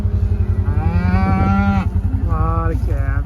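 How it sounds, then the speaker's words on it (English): Cattle and calves mooing at feeding time, several loud drawn-out moos close by, one after another over a steady mechanical drone from a feed mixer. "A lot of calves."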